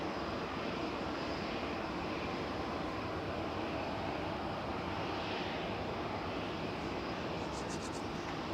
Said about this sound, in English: Ryanair's going first,